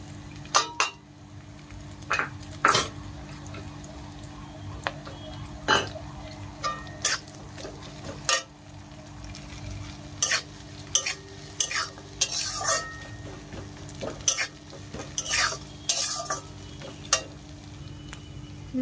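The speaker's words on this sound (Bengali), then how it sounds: "পেঁয়াজগুলো ভাজা হয়ে গেছে, এবার আদা রসুন বাটা দিই" Onions being fried with ginger garlic paste stirred in give a soft background sizzle broken by repeated sharp scraping and clattering strokes of a spoon against the pan, irregular and close.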